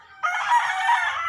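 A rooster crows at a chicken coop: one loud, close cock-a-doodle-doo that bursts in after a brief quiet moment and holds steadily for over a second, with no talking.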